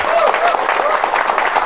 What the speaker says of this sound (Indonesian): Tepuk tangan dong yang meriah Pak Ketua.